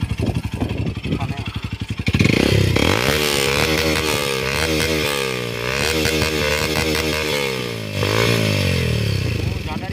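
Hero Xtreme 125R motorcycle fitted with a full system exhaust, idling with a pulsing beat, then revved repeatedly in loud rising and falling bursts close to the microphone.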